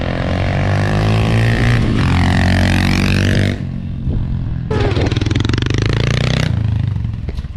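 A Honda CRF125F dirt bike, stock exhaust, rides nearby, its engine revving up and down in loud rising and falling sweeps, easing off briefly before opening up again.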